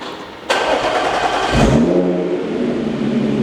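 An Audi S5 B8.5 fitted with CAP resonated test pipes starts for the first time. A sharp crank catches into a loud rev that settles to a deep, steady idle rumble, close by with no voices.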